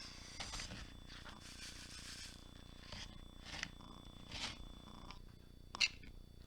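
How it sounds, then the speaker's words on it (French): A house cat grumbles and purrs up close, wanting to be let outside, in low, rough rumbling bursts that rise and fade over several seconds, with a faint rustle and a brief sharper sound near the end. "j'ai mon chat qui râle parce qu'elle va aller dehors"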